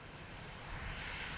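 A fixed-wing airliner on final approach to land on runway 28 left at Dublin Airport, a steady broad engine roar heard from a distance, swelling slightly over a brief moment.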